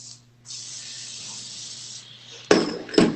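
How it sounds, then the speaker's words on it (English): Hairspray hissing from an aerosol can onto a Sheltie's coat during grooming, a sustained soft spray lasting about two seconds followed by two quick louder bursts near the end. "Bit of hairspray. Not too much."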